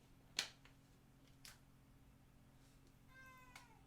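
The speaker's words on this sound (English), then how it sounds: "He'll probably be in here meowing the whole time." A male house cat gives a short, faint meow near the end, heard indoors against a low background hum with a few small clicks earlier.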